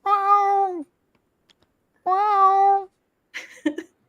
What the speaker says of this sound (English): Hope the cat doesn't freak out.